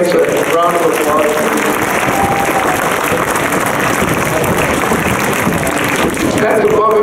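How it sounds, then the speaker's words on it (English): A crowd applauds Mrs. Vance at a school holiday band concert: loud, dense, sustained clapping from many hands that fills the whole stretch at an even level without pause. "Can we give Mrs. Vance a round of applause?"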